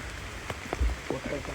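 Steady rain falls at Uparkot fort in Junagadh, a continuous close patter on hard surfaces with a few dull thumps.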